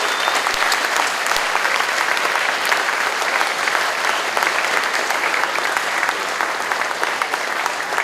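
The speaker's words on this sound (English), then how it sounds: "Give yourself a round of applause." A crowd at a school end-of-year assembly applauds steadily and densely throughout, with no voices standing out.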